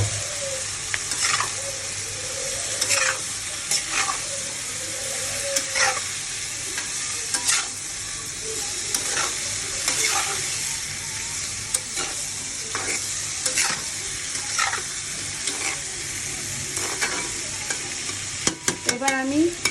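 Prawns frying in a pan, a continuous sizzle punctuated by regular scraping and clacking strokes of a utensil, with a flurry of quicker knocks near the end.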